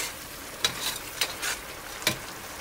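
Paella ingredients sizzle quietly in a pan while being stirred, soft frying hiss broken by four or five light scrapes of the spoon, with no talking.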